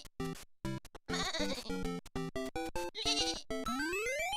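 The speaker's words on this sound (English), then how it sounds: "One of the amiibo mushrooms is just a sheep?" A comic sheep bleat sound effect from an amiibo mushroom in Super Mario Maker repeats rapidly in a chaotic stream of synthetic bleats and tones, bright and loud.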